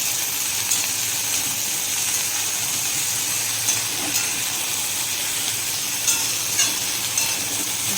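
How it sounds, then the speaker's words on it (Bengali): Sliced ridge gourd sizzles steadily in hot mustard oil, a continuous hiss broken by occasional light clinks and scrapes as it is stirred in the pan. "তো আবার একটু ঝিঙেগুলোকে আমাকে ভালো করে ভেজে নিতে হবে।"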